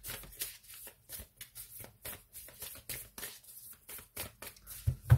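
Oracle cards are shuffled by hand in a quiet room, a run of quick papery riffles and slaps, each burst short and crisp, repeating steadily for several seconds with no one speaking.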